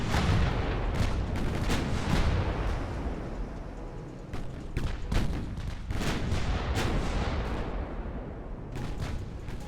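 Naval gunfire from warships in the Ultimate Admiral: Dreadnoughts naval strategy game, with repeated loud booming broadside salvos overlapping into continuous rumbling blasts across the whole stretch, no talking.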